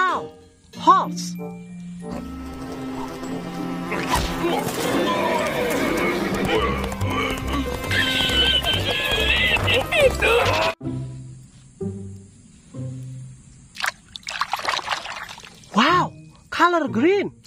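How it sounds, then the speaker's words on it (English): In a video game, a horse whinnies and its hooves clip-clop amid busy game noise and music, with a voice talking over parts of it. "Horse."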